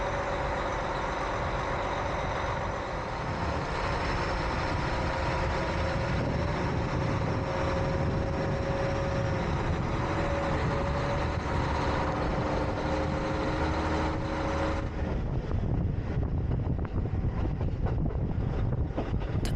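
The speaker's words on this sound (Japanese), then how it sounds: "出発とともに大きくなるエンジン音" A diesel train engine on the Hanasaki Line rumbles as it pulls away from a station, a steady loud drone with a tonal hum that holds and then shifts character as the train gathers speed, with no talk.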